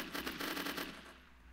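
Rapid automatic gunfire from police officers' 9mm guns in The Last Stand: Union City, a dense, loud burst of rattling shots that tails off into a fading echo.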